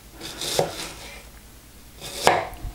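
A Kizlyar Biker-1 folding knife slices through food on a cutting board, giving two distinct, crisp cutting strokes about a second and a half apart, close and clear against a quiet room.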